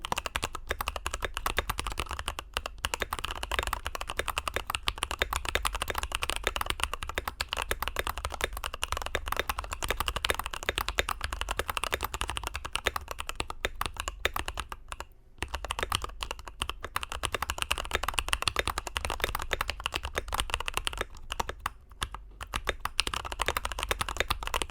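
Continuous typing on a modded Skyloong GK64 budget mechanical keyboard, a dense, steady stream of close keystrokes running nearly nonstop with only brief pauses, no voices.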